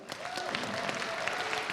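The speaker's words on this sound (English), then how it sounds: "please give a nice round of applause for Karen Dunlap, Coldwell Banker." An audience at an opening night event applauds sponsors, giving a dense, steady wash of clapping from many hands that fills the space evenly at moderate loudness.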